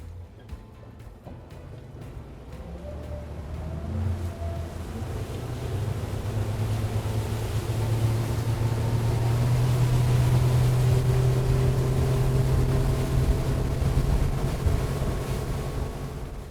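A motorboat at wide open throttle running in a straight line, its engine drone building over the first several seconds into a loud, sustained roar with a steady hum, wind buffeting and water rush, no voices.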